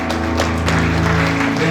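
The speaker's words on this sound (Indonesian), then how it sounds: "Beri tepuk tangan untuk mereka." Guests at a wedding applaud the newlyweds with loud, continuous clapping under a sustained musical tone, with some voices mixed in.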